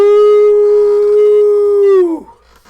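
A human voice imitates a werewolf howl, one long loud sustained 'ow-ooo' that slides downward and breaks off at the end.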